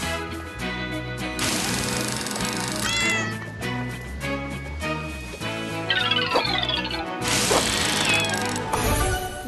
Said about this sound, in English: Look, that cat up in the tree.